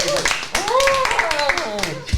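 Clapping and cheering open a music podcast episode, with voices whooping in rising and falling calls over scattered hand claps throughout a brief, lively burst.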